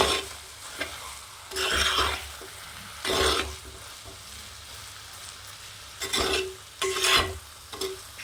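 Prawn roast stirred and reduced in a pan, with bursts of spoon scraping and sizzle in several separate passes over a low steady frying hiss, close and moderately loud, no talking.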